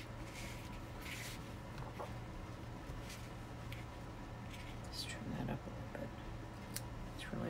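A few quiet snips from scissors close by trimming ribbon, with soft handling sounds and faint background hum.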